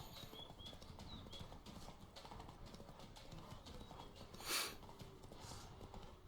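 Steady clip-clop of horse hooves at a gallop in The Witcher 3: Blood and Wine, close and continuous, with a brief louder burst near the end.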